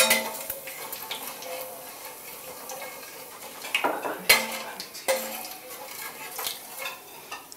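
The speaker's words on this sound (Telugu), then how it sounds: "బాగా దోరగా వేగాయి కాబట్టి నేను ఉల్లిగడ్డలు వేసేసాను" Sliced onions fry in hot oil in a pan while a spoon stirs them for Nellore fish curry, giving steady sizzling with clinking scrapes of utensil against metal and sharper knocks near the end, no talking.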